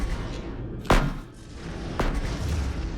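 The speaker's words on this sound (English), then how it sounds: "Big explosions." Missile explosions during a space battle in the video game Astrox Imperium, two heavy booming blasts about a second apart over a dense rumbling game soundtrack.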